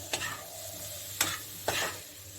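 Chopped tomatoes frying in a pan for a paneer broccoli dish, a soft continuous sizzle broken by three sharp scraping stirs of a spoon against the pan.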